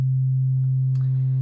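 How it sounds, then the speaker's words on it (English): A Waldorf Kyra synthesizer holds a steady sine tone with a sawtooth waveform blended in, a sustained buzzing hum with a brief brighter blip partway through, with no voices. "sawtooth gets added to the sine wave"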